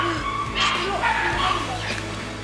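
Small puppies yip and whimper in a busy cluster of high, squeaky cries, with people talking softly in the background.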